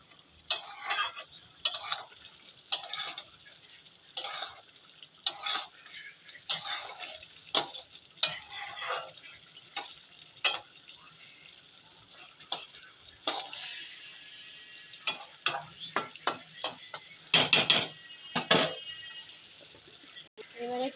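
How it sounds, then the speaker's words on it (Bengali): Duck meat curry being stirred in a pot, with a spoon scraping and clinking in irregular bursts over a faint background sizzle, the strokes quickening toward the end. "একবার নেড়ে নেবো।"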